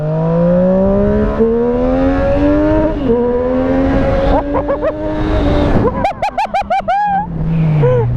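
A Triumph Street Triple RS 765 motorcycle accelerates hard, its engine note climbing through several gears with quick drops at each shift, then a burst of rapid revs near the end. It sounds loud and close, like it was recorded from the rider's seat.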